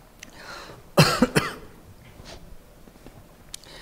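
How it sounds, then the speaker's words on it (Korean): A couple of harsh, dry coughs from dry air in quick succession, close by, followed by quiet room noise and faint small sounds. "폐렴 때문에 기침하는 게 아니라 저 공기 때문에 건조해서"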